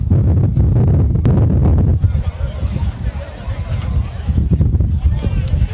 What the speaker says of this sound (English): And it's sure getting windy up here.